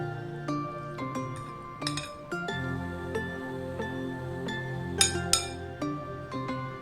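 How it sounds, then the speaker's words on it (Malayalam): A spoon clinks against a bowl while challas is mixed, a series of sharp, bright taps in an irregular rhythm, close and clear over a quiet background. "ഇനി നമുക്ക് സ്പൂൺ ഇട്ട് മിക്സ് ചെയ്താൽ മതിയാവും."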